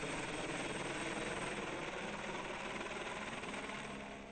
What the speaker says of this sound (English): Choppers are once again in the air, hovering across Makueni County in a vote hunting mission.